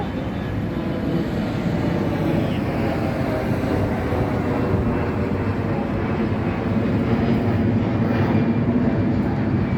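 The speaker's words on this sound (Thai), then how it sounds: "เครื่องบินไปแล้ว" Airplane passing over a flower field beside a road in Thailand, a steady broad roar that holds evenly loud throughout with no other distinct sounds.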